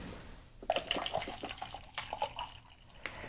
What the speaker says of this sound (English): Let's get some water in it.